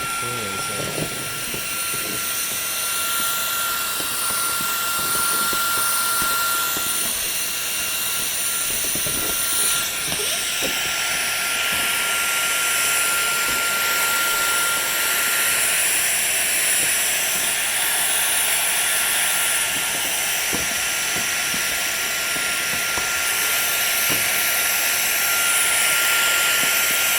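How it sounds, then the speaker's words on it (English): A vacuum cleaner runs continuously with a steady high-pitched whine and airy hiss while it cleans refrigerator condenser coils, close and loud, with small bumps and scrapes as the nozzle moves. "we're just gonna stick the vacuum in there. And vacuum those"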